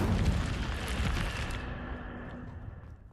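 An Incendio fire spell cast in Hogwarts Legacy erupts as a loud, dense whooshing burst that rumbles at first, then fades away over a few seconds.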